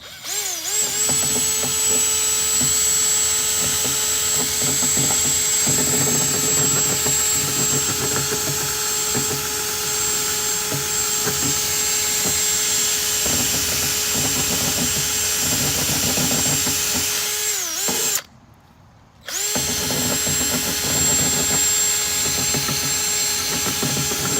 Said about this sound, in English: we're going to take a wire brush attachment on a drill and just clean it up